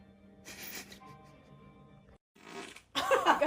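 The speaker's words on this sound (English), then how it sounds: "God, this is like 7 days in the week of her farting." Farts from girls in a played compilation of farting clips, several short bursts at moderate loudness, a brief pause, then a louder, rougher one at the end, with no talking.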